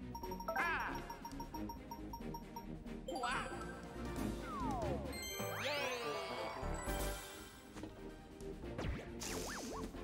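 In the video game Mario Party Superstars, a Boo Bell item rings with bright dings, tinkling jingles and a short crash among busy game sound effects and music, moderately loud.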